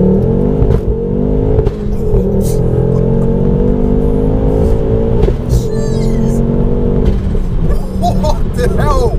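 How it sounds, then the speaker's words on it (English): Tuned stage 4 Ford Focus RS with a turbocharged engine, about 490 bhp, accelerating hard, giving a loud, continuous close-up engine drone with a steady roar. Brief gear-change breaks interrupt it, and faint voices sit underneath. "The turbo comes in so strong."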